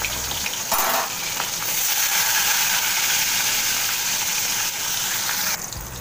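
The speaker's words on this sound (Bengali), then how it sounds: "এরপরে ওই মাছগুলোকেও সমস্ত এইভাবে ভেজে নেব।" Katla fish pieces frying in hot oil give a steady, loud sizzle with a brief stir near the start, then the crackle carries on evenly for several seconds with no voices.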